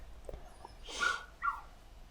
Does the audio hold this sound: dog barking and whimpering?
yes